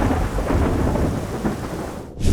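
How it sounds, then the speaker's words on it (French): Heavy rain pours steadily with deep rolling thunder in the mountains at 2300 m altitude, loud and close, with a brief sharper gust near the end. "regardez comment il pleut énormément"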